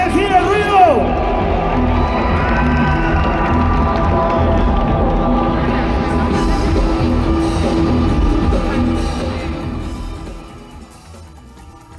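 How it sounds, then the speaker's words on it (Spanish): Loud, steady cheering and clapping from a crowd at a breakdance battle, holding for about ten seconds before fading, with an announcer's voice over it. "se acabó el aplauso de la gente"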